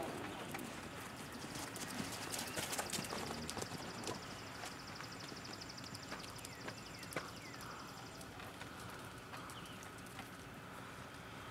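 Horse hooves cantering in an arena during a riding lesson, a soft rhythmic clip-clop under steady background noise, fairly distant, with faint birds.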